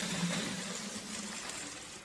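Water is poured back into a detailing wash bucket fitted with a grit guard, giving a steady, fairly close splashing gush that runs on without pause.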